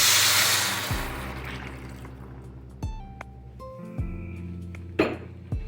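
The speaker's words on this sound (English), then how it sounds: "At this point, I'm going to add 2 cups of water" Water poured into a pan for cooking orzo: a broad rushing pour in the opening second, then fading, with a few clinks and drips after.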